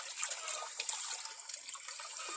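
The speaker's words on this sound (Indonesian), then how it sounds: "Kita aduk lagi ya." A stirrer mixes a liquid solution during a pH adjustment test, giving a soft, continuous watery swirl and trickle with no voices.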